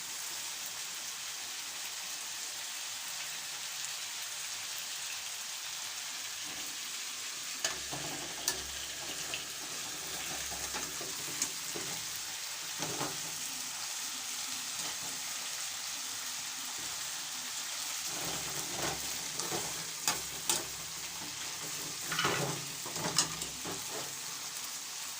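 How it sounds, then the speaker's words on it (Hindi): Chicken sizzles and fries in a karahi for a home-style white chicken karahi, a steady bright hiss throughout with occasional scraping stir strokes and soft clinks, close and moderately loud, no talking. "चिकन को बस हमने इतना ही फ्राई करना है।"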